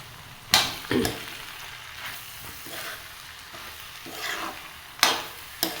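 Spoon stirring chopped fenugreek leaves into a sizzling pan of mixed vegetable curry, soft scraping and hissing with a few sharp clanks against the pan, close and without speech.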